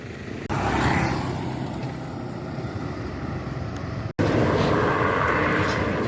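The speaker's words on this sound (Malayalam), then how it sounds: "അതാ വലിയ ലോറികളൊക്കെ കയറി പോകുന്നുണ്ട് കേട്ടോ" Heavy lorries and traffic roaring past on the newly built Mahe–Thalassery NH66 bypass during its trial run, a loud continuous engine rumble with a brief dropout before it surges again.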